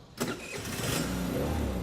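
A vehicle engine cranks and catches right after the ignition is switched on, a short starter whir followed by a close, steady, low idling rumble.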